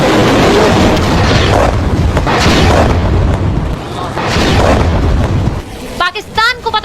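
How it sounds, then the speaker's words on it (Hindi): BrahMos missile strike exploding on an airbase: loud rolling booms and rumbling blasts swelling and fading in waves, ending with a short burst of voices. "पाकिस्तानी एयरबेस पर चली ब्रह्मोस।"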